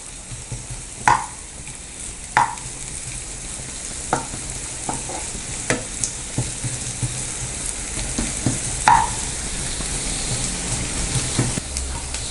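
Biryani masala for paneer biryani sizzles steadily in a pan, punctuated by sharp scraping knocks of a spatula every second or two, close and fairly loud.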